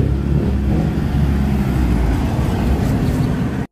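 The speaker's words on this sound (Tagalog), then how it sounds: "Mga sasakyan lang ang dami, ang ingay, ang kalsada." Busy roadside traffic with many vehicles passing, a steady loud rumble of engines and tires that fills the clip and cuts off abruptly at the end.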